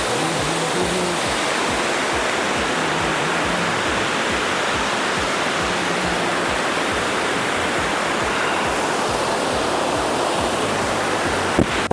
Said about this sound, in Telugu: ప్రకృతి మనకిచ్చే అద్భుతమైన వరం ఇలాంటి జలపాతాలు.